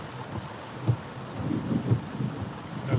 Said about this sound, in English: That was a good lightning strike.